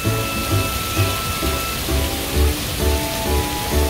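Water showers down at a children's water play area with a large dumping bucket, a steady close rush of falling drops that swells and eases in a regular pulsing rhythm.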